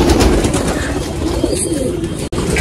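Pigeons cooing steadily in a loft, their soft calls layered over continuous rustling and background noise, with no talk.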